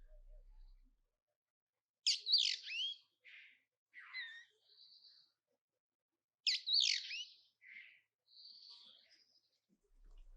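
A bird species recorded for the first time in Spain, captured with a parabola, gives two clear bursts of calls: a sharp descending note followed by shorter whistled and buzzy phrases, repeated after a pause against near silence.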